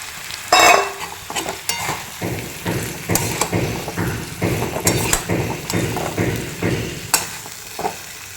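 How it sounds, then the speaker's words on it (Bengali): Fish heads stirred in a spice paste frying in a pan, with repeated scraping strokes of a spoon over a steady sizzle, close and fairly loud, no talking. "এবার আমি এর মধ্যে মাছের মাথাগুলো দিয়ে দেবো মাছের মাথা দিয়ে একটুখানি ভালো করে নাড়াচাড়া করে নেব"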